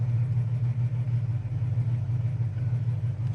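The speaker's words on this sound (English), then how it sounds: "Idle's nice at a stop sign." A 1970 Plymouth GTX engine idles steadily nearby at a stop sign, a low, even rumble with a slight rhythmic pulse and no talking.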